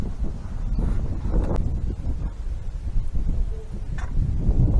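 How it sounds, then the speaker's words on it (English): Strong wind gusts roar across the microphone on an exposed mountaintop, rumbling and buffeting unevenly throughout. "It's real windy. We're up on top of a mountain here."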